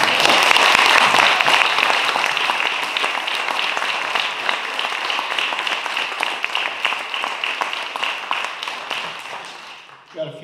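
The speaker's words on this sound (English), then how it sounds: "these folks need a big round of applause" An audience at a farming talk breaks into dense, sustained applause that stays loud and then slowly thins out toward the end.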